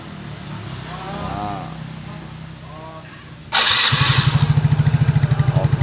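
A Yamaha Mio Soul GT 115 scooter engine being started: quiet whirring and background sound first, then a sudden loud catch as the 115 cc engine fires and settles into a close, steady, rhythmic idle putter.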